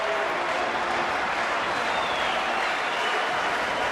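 Velodrome crowd at the 2014 UCI Track World Championships on their feet, a dense, sustained wash of cheering and rhythmic chanting that carries evenly from start to finish with no break.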